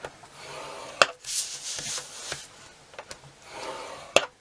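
Cardstock is scored on a scoreboard: soft scraping strokes of the scoring tool along the paper, with sharp clicks and taps as the board and sheet are handled, close and fairly quiet.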